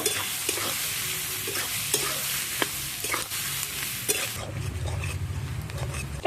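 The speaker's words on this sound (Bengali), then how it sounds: "ছোট্ট ছোট্ট করে কাটা পেঁয়াজ পেঁয়াজটা একটু বেশ সুন্দর করে ভেজে নেব" Finely chopped onions frying in oil with whole garam masala and green chilli for a chicken curry, a loud continuous sizzle with repeated stirring scrapes, then a deeper hiss as the pan settles.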